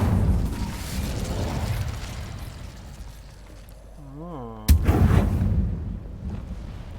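Incendio fire spell cast in Hogwarts Legacy: a sudden loud burst erupts after a swelling tonal shimmer, followed by a roaring crackle that trails off, over a busy game backdrop.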